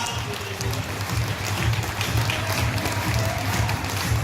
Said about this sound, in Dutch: Even een applausje voor alle drie combinaties